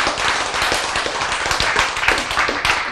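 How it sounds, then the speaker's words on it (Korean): A church congregation claps during a sermon, a dense burst of many hands applauding together, loud and close for the full stretch. "박수."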